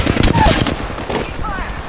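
An R99 submachine gun fires in the video game Apex Legends as a short, rapid burst of close shots under in-game voice chatter.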